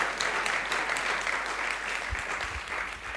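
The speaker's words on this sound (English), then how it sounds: "Let's give him a big clap for that class." A seated audience claps after a Srimad Bhagavatam class, a short burst of steady group applause that tapers off toward the end.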